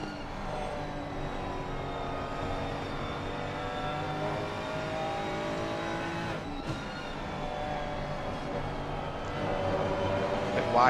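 A pack of racing cars circling Brands Hatch, engines droning steadily together with layered harmonic whine, one car's note rising slightly toward the end.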